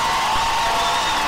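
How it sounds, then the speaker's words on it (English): A home crowd in packed stands at a high school football game roars in a brief sustained wash of cheering from a distance, with a faint whistle-like tone running through it. "You can hear the home crowd fired up about that."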